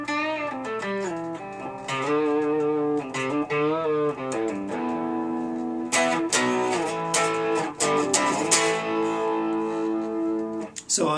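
Clean electric guitar lead line on the lead pickup, with bright, crisp sustained notes and string bends, played steadily and up close without any talking.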